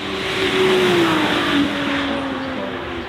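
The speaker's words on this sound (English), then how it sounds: "Ferrari Daytona SP3, Pat Blakeney at the wheel" A Ferrari Daytona SP3 hypercar accelerates with a loud engine note that swells, shifts pitch and then eases off over a few seconds, with no talk.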